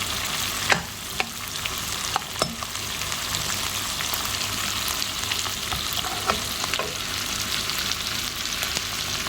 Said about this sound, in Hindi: इनको फिर थोड़ा सा फ्राई करेंगे।